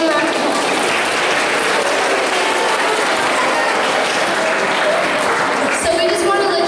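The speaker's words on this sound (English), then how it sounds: "let's give him a round of applause" An audience at a high school students' presentation in an elementary school claps steadily and densely for the whole stretch, a continuous close wash of applause.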